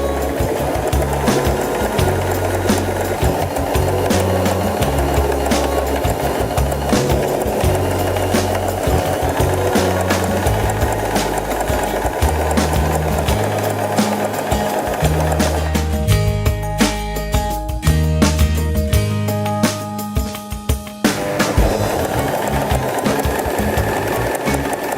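A Janome 3016 sewing machine runs loud and close in a steady fast rhythmic whir as it stitches, briefly shifting pitch and pausing near the end before resuming.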